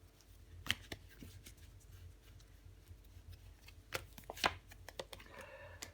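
Tarot cards are laid down and covered on a table in soft, scattered slaps and slides, a few crisper snaps among quiet shuffling, close and faint with no talking.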